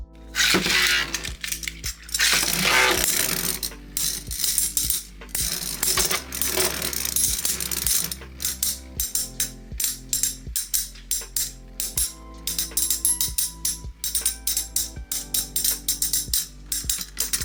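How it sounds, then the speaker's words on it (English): Metal Twisted Tempo and Diablo Nemesis Beyblade tops clash in a stadium, giving rapid metallic clinks, scrapes and sharp impacts, dense and loud at first, then thinning into sporadic ticks and rattles as the spin slows. "So now we have Metal Twisted Tempo versus Diablo Nemesis."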